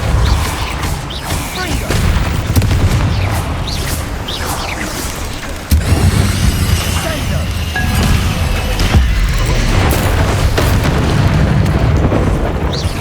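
Depulso spell cast in Hogwarts Legacy, heard as heavy booming blasts and crashing impacts over a dense, continuous wash of game effects, with a sharp break near the middle before the rumbling resumes.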